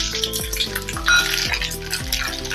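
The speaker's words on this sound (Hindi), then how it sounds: "अभी इसमें डालेंगे तिल और राई।" Sesame and mustard seeds hit hot oil for an Indian tadka, a continuous crackling sizzle with fizzy pops, close and moderately loud under light background music.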